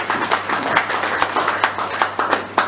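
Audience clapping for a visiting delegation at a public meeting, a steady patter of hands with sharper individual claps over a low hum, sustained throughout.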